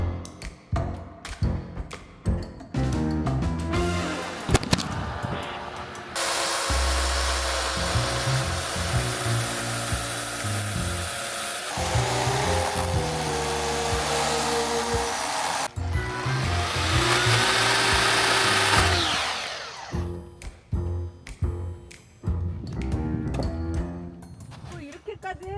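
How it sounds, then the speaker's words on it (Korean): A power tool runs loud and steady through long stretches of cutting up a huge pile of firewood logs outdoors in cold weather, with bursts of noise between cuts and people talking at the start and end. "오늘 이 산더미처럼 쌓여있는 이 장작을 다 자르고 쪼개야 돼요"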